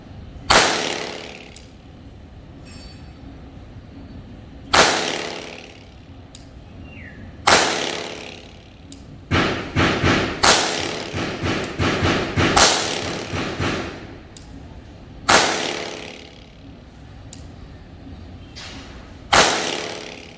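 A Glock 44 pistol fired repeatedly, sharp loud reports spaced a few seconds apart, with a quicker cluster of shots in the middle and a short ringing decay after each.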